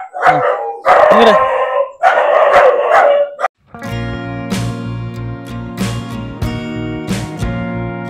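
A dog at an animal care shelter barks in loud bursts, then breaks into a long, wavering howl that holds for several seconds.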